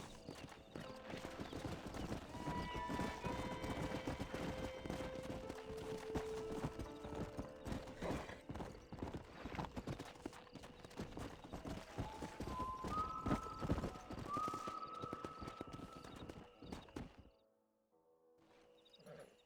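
Hooves clip-clop in a brisk, continuous rhythm, with a horse whinnying and snorting amid music in the video game Red Dead Redemption, then fading to near silence at the end.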